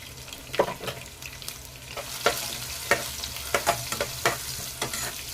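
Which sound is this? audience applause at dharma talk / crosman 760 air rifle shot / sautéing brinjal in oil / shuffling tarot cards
sautéing brinjal in oil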